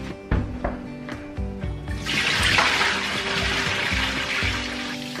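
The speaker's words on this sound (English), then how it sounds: "I'm getting the brine bucket and dumping the brine water down my sink" Brine water from a turkey-brining bucket is poured down a kitchen sink, starting as a loud rushing gush after a few clinks and clunks and continuing as steady splashing and draining for several seconds.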